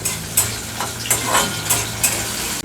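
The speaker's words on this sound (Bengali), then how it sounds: "কাজু আর কিশমিশটা একটু ভালো করে ধুয়ে রেখেছিলাম ধুয়ে তারপর সেগুলো একটুখানি হালকা ফ্রাই করে নেবো" Washed cashews and raisins fry lightly in a pan, giving a soft continuous sizzle with a few spoon scrapes and taps as they are stirred.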